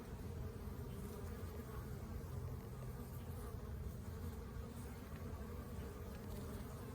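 Honeybees gather at the hive entrance carrying in light brown pollen. Their steady, dense buzzing hum fills the whole stretch at an even, moderate level with no voices over it.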